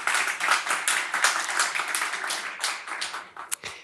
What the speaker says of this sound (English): Please give Paweł a big applause